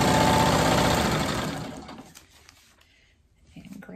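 Sewing machine stitching fabric strips for a spider web string quilt block, a close steady mechanical whir that fades out midway, leaving quiet handling noises and a faint restart at the end.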